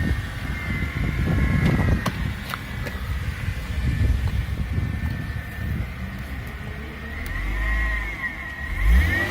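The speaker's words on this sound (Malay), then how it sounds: "Bunyi dia bila tuan-tuan bawa atau ram engine, bunyi dia macam bunyi whizzing." Mercedes-Benz C-Class W204 engine being revved with a worn pulley, a faint, fairly distant engine rising and falling through several revs, with a thin whizzing whine riding above it and a couple of sharp clicks.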